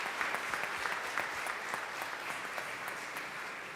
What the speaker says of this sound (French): Je vous invite particulièrement à les applaudir.